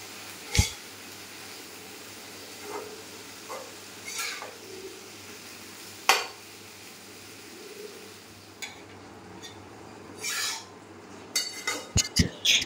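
Fiddlehead greens being stirred and fried in a pan with salt and turmeric, giving a faint, steady sizzle broken by scattered clinks and scrapes of a utensil against the metal, close by, with no talk.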